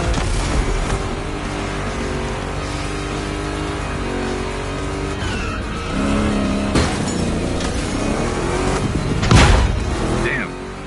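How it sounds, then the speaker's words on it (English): Two Chevrolet big-block cars race in The Crew Motorfest video game, their engines roaring and revving with gear changes and a sharp surge near the end, under spoken commentary. "Two Chevys, two big blocks, but only one winner."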